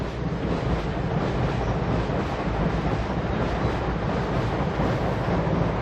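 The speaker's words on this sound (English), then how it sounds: "I'm going to wait for the train." A train rumbles past nearby, a steady loud low roar with faint rhythmic clatter running the whole time, no voices.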